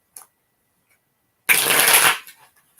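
A quick riffle of a deck of cards being shuffled, close and crisp, in one short burst after a tiny tap and a pause of silence.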